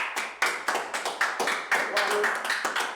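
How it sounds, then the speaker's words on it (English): Several people clap hands at an uneven pace during a religious class meeting, sharp and fairly close, with some voices mixed in between the claps. "All right, clap it up."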